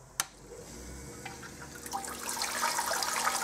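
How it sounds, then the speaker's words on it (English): Pump in a DIY electric all-in-one recirculating brewing system with a sparge ring switching on, a brief click followed by building rushing and splashing water that grows louder and steadier over a few seconds. "And then, in theory, we can just turn the pump on."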